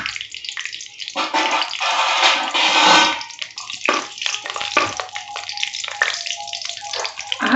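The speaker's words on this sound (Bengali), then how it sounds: "কাজু কিশমিশটা আমি একটু হালকা করে ভেজে নেব" Cashews and raisins fry in a couple of spoonfuls of ghee, a close, crackling sizzle with bursts of spitting and stirring that rise and fall throughout.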